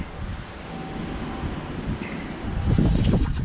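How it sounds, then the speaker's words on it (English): Strong wind buffets a microphone outdoors on a beaver trapping trip, a constant low rumbling roar that swells louder toward the end, with no voices. "The wind is just terrible."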